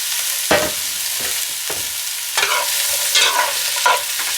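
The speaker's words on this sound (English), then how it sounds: "In a pan over medium heat, we're going to add 2 tablespoons of olive oil. We're going to add the onions, carrots, and celery to the pan." Onions, carrots and celery sauté in olive oil in a pan over medium heat, a soft steady sizzle broken by several louder scraping stirs of the vegetables.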